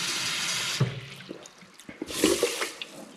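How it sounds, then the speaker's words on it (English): Water poured from one container into another in a kitchen, two splashing gushes about a second apart with clinks and knocks between them, close and moderately loud. "pouring water into a different container"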